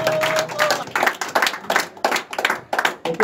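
A church congregation in Divo, Côte d'Ivoire claps together in a loud, close, continuous burst of applause, with some voices mixed in.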